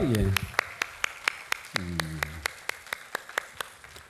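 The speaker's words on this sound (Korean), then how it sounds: "우리 하나님께 모든 영광의 박수 올려드리겠습니다" Church congregation at a Korean Sunday worship service claps in steady, evenly spaced beats, loud, sharp and rhythmic, with a voice briefly over the start and again near the middle.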